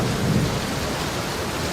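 A steady wash of heavy rain with a low rumble of thunder, continuous and fairly loud, with no voices, used as a rainstorm effect in a children's story about the rainy season.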